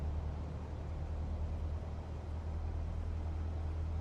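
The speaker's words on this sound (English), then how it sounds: "And they usually have you leave it in 1200 RPM for about, 30 seconds. That's an old European engine." An old European engine idles at about 1200 RPM, giving a steady, low, droning hum with a faint hiss on top, constant and unbroken throughout.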